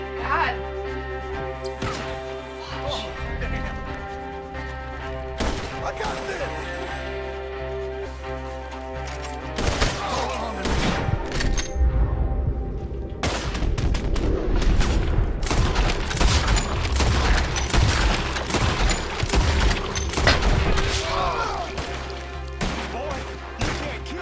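Gunfire in Red Dead Redemption 2 crackles through a scene with irregular, clustered shots, some near and loud, others scattered, over a steady low background hum and with a voice talking in between.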